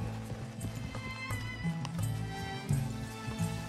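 Horse hooves clip-clopping at a steady trot while riding in Red Dead Redemption 2, moderately loud and even in rhythm over a low ambient hum, with no talking.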